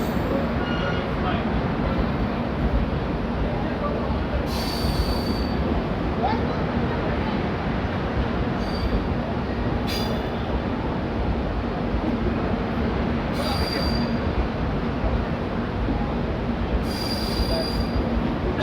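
Uttarbanga Express passenger train running, a loud continuous rumble of wheels on track with repeated high metallic squeals, heard from inside the carriage.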